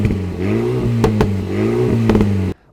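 A 2023 Alpine A110 S sports car with an aero pack and semi-slick tyres revs its exhaust in two rising and falling sweeps, with sharp pops and crackles between the blips. The sound is close and loud and stands alone.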